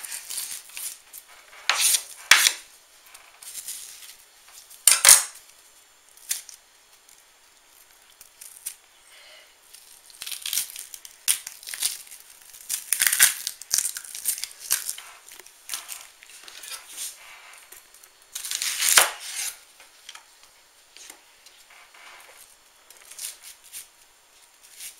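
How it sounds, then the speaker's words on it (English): A knife chops and dices a whole onion on a cutting board while chili is prepared, giving irregular clusters of sharp taps and scraping strokes with quiet pauses between, close and clear. "we're going to take the whole onion, we're going to chop it, or dice it up, and we're just going to chop the ends off"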